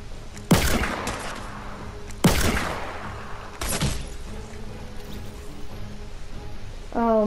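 Three loud revolver gunshots ring out a couple of seconds apart, each a sharp crack with a trailing echo, followed by quieter background sounds.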